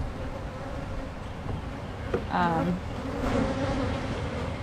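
A steady, dense buzzing of many honey bees fills the clip, close and continuous, with a brief louder passage near the middle.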